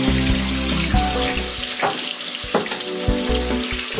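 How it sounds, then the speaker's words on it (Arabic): Sea bream fish sizzles in medium-hot oil, a steady crackling fry broken by a few bumps and scrapes as pieces settle in the pan, with no talking. "وبعد ما سخن معنا الزيت بدنا ننزل السمك"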